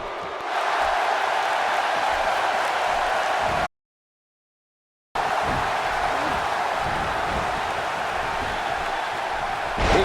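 A capacity arena crowd in WWE 2K17 roars and applauds in a steady, dense wash of cheering, broken by a brief dead-silent gap before resuming just as loud.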